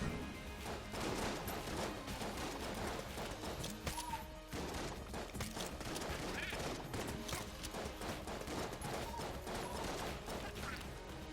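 Dense, steady volleys of scrambler gun shots in Enter the Gungeon, mixed with game effects and a busy background score, continuous and fairly quiet throughout.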